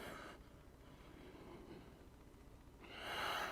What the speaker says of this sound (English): Breathing in deeply and out.